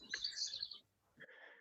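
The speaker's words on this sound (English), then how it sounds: "I have a black-headed grosbeak singing here" A black-headed grosbeak sings a bright, warbling phrase outdoors, followed after a short pause by a second, thinner phrase; the song is moderately close against a quiet background.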